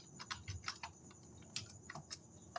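Keys clatter on a computer keyboard while Python code is typed, quick uneven clicks in short bursts, close and quiet, with no talking.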